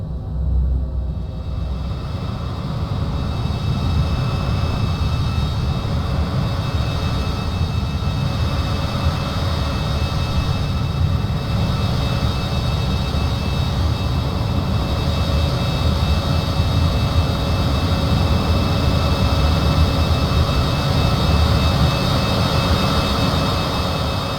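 MiG-21 jet engine in a flight simulator while the aircraft taxis, a steady loud roar and rumble with a high whine that holds evenly from start to finish, with no talking.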